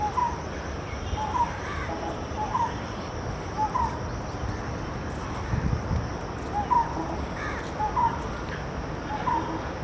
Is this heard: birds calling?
yes